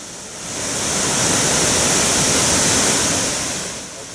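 Waterfall in a gorge, a dense roaring rush of falling water that swells in loudness, holds steady and eases off near the end, broadband and close with no voices.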